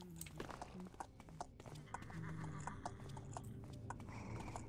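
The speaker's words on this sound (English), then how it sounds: "A horse." Horse hooves clip-clop faintly and irregularly in the Thief Gold game, with soft clopping under some background ambience and no clear whinny.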